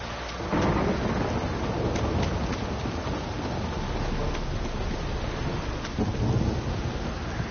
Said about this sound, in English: If it don't stop raining